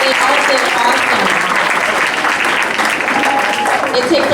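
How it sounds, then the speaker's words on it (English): An audience at a Miss Black & Gold pageant applauds, dense steady clapping filling the room at high volume for the whole stretch, with a voice faintly underneath. "let's give these ladies another round of applause"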